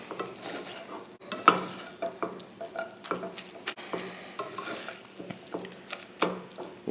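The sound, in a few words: stirring cheese into scrambled eggs and bacon in a pan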